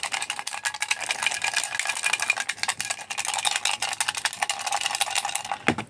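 Paper slips for a prize draw being stirred and mixed by hand, a steady dense rustle and light rattling running close and continuous throughout, no talking.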